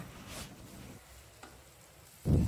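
Tomatoes frying in a pan for spicy cluster bean bhaji, a soft low sizzle with a few light stirring scrapes, then a louder bump of the spoon against the pan near the end.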